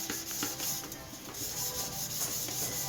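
Close, continuous rough scrubbing with a gritty, rasping texture, an abrasive sponge stroking quickly back and forth against a cooking pot.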